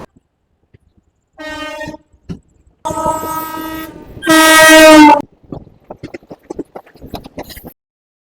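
A passenger train on the run from Digha towards NJP sounds several loud, close horn blasts, a short one then longer sustained ones, followed by rhythmic wheel clatter.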